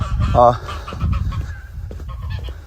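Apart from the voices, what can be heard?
farm birds screaming in alarm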